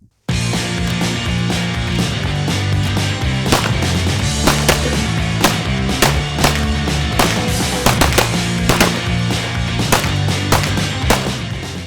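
A 1944 Remington and a 2024 Prodigy 1911 pistol fire .45 ACP and 9mm rounds in a loud, rapid string of close sharp gunshots spaced a fraction of a second apart, continuing without pause and with no talk.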